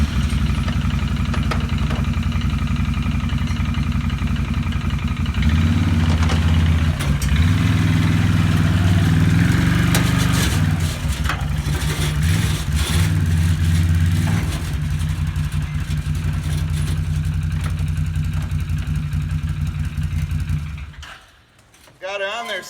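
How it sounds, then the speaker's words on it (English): A quad ATV engine runs steadily at idle for about twenty seconds with a rough low throb, swelling briefly in the middle before cutting off near the end, while a person talks over it. "Let me fire up the quad and keep your fingers crossed that today's not the day that it fails"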